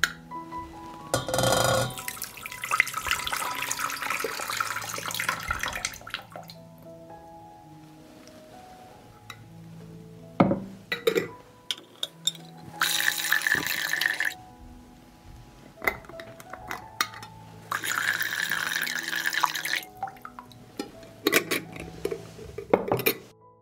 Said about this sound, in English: I pour the liquid from the jar into the pan.